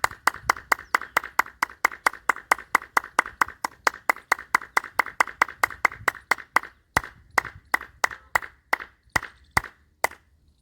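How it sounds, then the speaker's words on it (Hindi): Vigorous hand clapping done as an acupressure exercise, palms struck firmly together in a steady fast rhythm of close, loud, sharp claps, slowing slightly toward the end with no talking. "ऐसे हाथों की हथेलियों को मिलाकर ऐसे जोरदार तालियां बजाते हैं 2 से 5 मिनट तक लगातार।"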